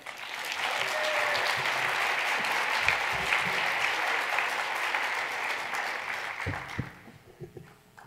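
A large audience applauds to welcome speaker Damon Barrett, a dense, steady clapping that holds for about seven seconds and then thins out to a few scattered claps.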